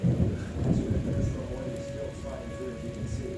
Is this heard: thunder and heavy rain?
yes